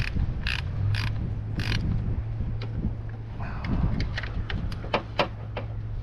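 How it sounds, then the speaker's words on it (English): A ratcheting wrench clicks in short bursts while working on a 2009 Saturn engine during a timing cover and oil pump job, with a low steady hum behind it and wind noise outdoors. "We're going to switch to the old ratcheting wrench here."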